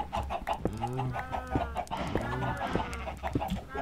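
Chickens cluck in the blocky Minecraft video game, several short repeated clucks and squawks layered over one another, close and fairly loud with no speech.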